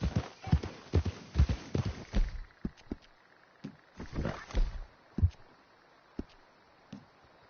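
Horse hooves gallop in Red Dead Redemption 2 on PS4, a fairly close, uneven run of clip-clop thuds that pauses briefly, then resumes with scattered lighter hoofbeats.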